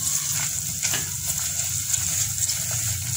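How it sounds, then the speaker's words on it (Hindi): Semolina roasting in hot ghee for sooji halwa gives a steady close sizzle and crackle, with faint stirring scrapes under the frying. "अब इसमें हमने घी गर्म हो चुका है, इसमें सूजी मिला दी हमने। अब इसकी हमने इतनी भुनाई करनी है"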